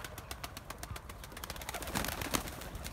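Pigeons in a new flight coop, soft cooing and rustling with light flapping, faint and somewhat distant, over a low background hum.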